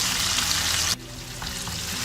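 Mutton pieces sizzle loudly in oil inside a pressure cooker, a bright steady hiss that briefly drops in intensity as the meat is stirred, then carries on more softly.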